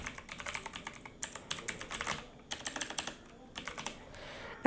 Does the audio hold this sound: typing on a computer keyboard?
yes